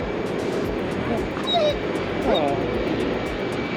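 Steady broad airplane roar from a plane flying overhead close to Miami airport, a continuous loud wash with passing voices and a brief exclamation over it.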